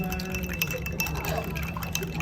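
Hot coffee poured into a glass over condensed milk at the bottom, a steady soft trickle of liquid with faint glassy clinks, fairly quiet and close.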